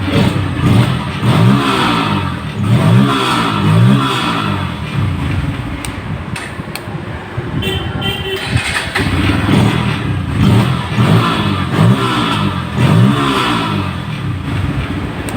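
A Bajaj N160 motorcycle, previously troubled by a self-starting problem, cranks on the electric starter and fires up repeatedly, its engine revving loudly in rhythmic bursts close to the listener.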